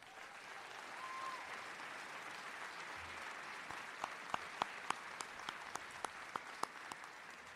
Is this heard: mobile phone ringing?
no